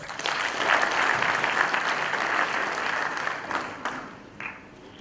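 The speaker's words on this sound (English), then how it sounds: "he deserves a round of applause." An audience at a corporate leadership event breaks into warm applause that swells at once, then thins and fades as the clapping winds down.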